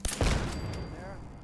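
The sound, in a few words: gunfire at turrets in the video game Fallout 4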